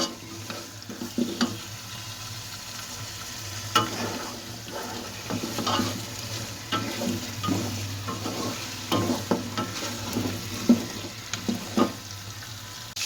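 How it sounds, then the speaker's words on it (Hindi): Beef pieces fry in masala in a pot while being stirred, giving a steady sizzle with repeated scraping clatters of the spoon, fairly close and moderately loud, with no talking. "गोश्त को अच्छी तरह जो फ्राई करूँगी, अच्छी तरह भून लूँगी मैं।"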